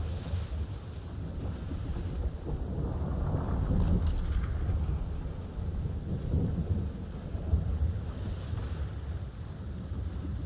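Thunder rolls through a lightning storm at sea in the video game Sea of Thieves, a loud, continuous low rumble with wind and water that swells around the middle and stays heavy throughout, with no voices.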